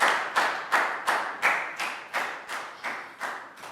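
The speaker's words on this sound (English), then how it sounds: "Big round of applause too." A classroom group claps in unison in a steady rhythm, about ten sharp, evenly spaced claps close to the microphone, with no talking over them.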